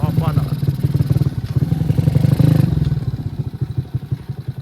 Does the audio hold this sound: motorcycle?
yes